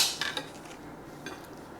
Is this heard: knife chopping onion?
yes